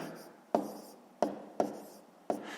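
A pen taps and scratches on paper while writing numbers for column multiplication, four sharp strokes spaced unevenly, each followed by a short scribble, close and quiet.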